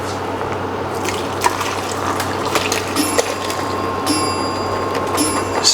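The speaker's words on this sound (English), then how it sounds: "I'm just going to pour them straight into the blender." Cooked parsnips and their liquid pour from a cut bag into a blender, a continuous wet gurgling splash with small drips and sloshes, close and fairly loud throughout.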